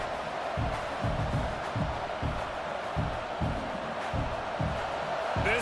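A stadium crowd in the College Football 26 video game rumbles as a steady, dense roar with rhythmic low thumps, like chanting or stomping, continuing throughout at moderate level.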